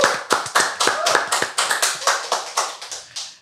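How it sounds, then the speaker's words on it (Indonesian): A few people clap for a guest on a talk show, giving a close, crisp series of about a dozen distinct hand claps at a steady, slightly uneven rhythm, with no talking. "Tepuk tangan buat Tiffany Jolie."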